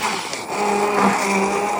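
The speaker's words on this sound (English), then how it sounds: "I'm going to use my Buche Mix food processor to roughly crush it" A Buche Mix food processor roughly crushing okra for soup, a close, steady motor whir with a brief dip early on.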